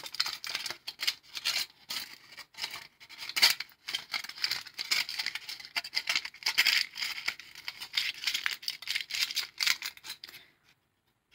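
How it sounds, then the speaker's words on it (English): Aluminium foil is pushed and compressed tightly by hand while being shaped into a thin sculptural length. It makes continuous close crinkling and crackling in irregular bursts, then fades to near silence at the end. "I'm pushing it, manipulating the foil, compressing it tightly"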